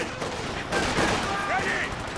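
Gunfire crackles through a Company of Heroes battle, bursts of shots overlapping in a dense, continuous rattle with voices calling out over the din.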